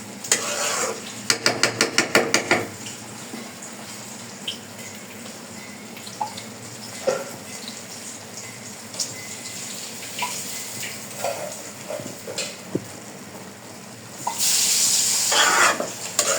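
Lentils stirred and sautéed with spices in a pan (kadai), a steady scraping and stirring with light sizzle, louder clattering bursts near the start and a hissier stretch at the end, no talk.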